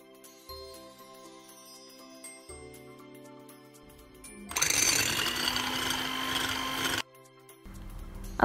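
An electric mixer beats egg whites with a pinch of salt for a plum cake, with short whirring motor bursts followed by a louder, rougher sustained buzz for a few seconds before it stops.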